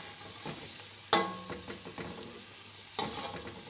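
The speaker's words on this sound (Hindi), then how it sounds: "थोड़ी सी देर इसको भूनेंगे" Black pepper, cloves and cinnamon roasting in a pan for Delhi-style pulao, with a soft sizzle and a few sharp clanks and scrapes of a spoon, two louder stirs standing out.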